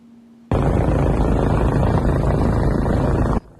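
A helicopter flies over a snowy mountain area of the Spanish Pyrenees. Its rotor roar is loud and dense, cuts in abruptly, holds steady for about three seconds and then stops just as abruptly.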